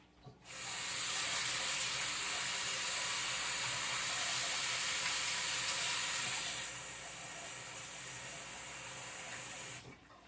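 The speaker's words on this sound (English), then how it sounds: "I'm gonna have to wash my hands" Kitchen tap water runs steadily into a sink while hands are washed during cooking, a loud, even hiss for about ten seconds that softens slightly partway through before cutting off, with no talking.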